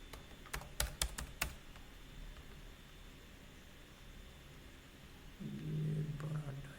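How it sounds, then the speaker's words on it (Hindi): Keys on a computer keyboard tapped in a short burst of close, sharp clicks near the start, followed by quiet room hiss and a low hum entering near the end. "मैं टाइप कर देता हूँ"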